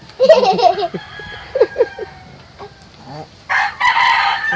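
A gamecock raised for derby fighting crows loudly nearby, with hens clucking around it and another crow rising toward the end.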